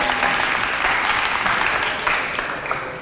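Audience at a televised stage show breaks into loud, sustained applause, a dense wash of many hands clapping close by that gradually eases toward the end.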